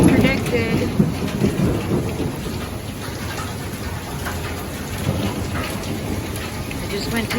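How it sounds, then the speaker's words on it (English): Heavy rain pours steadily during a predicted thunderstorm in a small town, with low thunder rumbling beneath the dense, close hiss of the downpour throughout. "this is the storm that they predicted"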